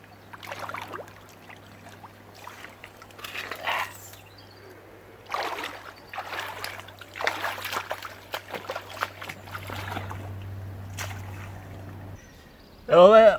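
Water sloshes and splashes in irregular bursts during washing, with a steady low hum running underneath and a sharp louder splash at the very end.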